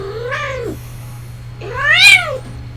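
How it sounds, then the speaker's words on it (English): A cat meows twice, loud and close, the second call longer and rising higher than the first, with no voices. "The cat."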